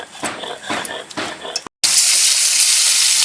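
Pakal eel fish dropping into hot oil, bursting into a loud, steady sizzle up close after a few short clattering kitchen sounds and a brief cut.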